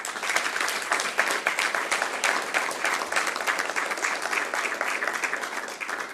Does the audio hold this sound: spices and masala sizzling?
no